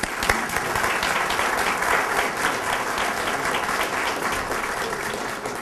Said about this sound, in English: I want to give the Drury family and their team another round of applause for a tremendous project